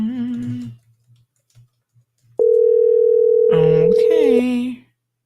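A steady telephone dial tone sounds for about two seconds while placing a call, cutting in abruptly after a brief voice and a few soft clicks, with a person talking over its end.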